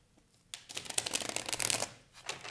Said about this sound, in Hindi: One last time shuffle.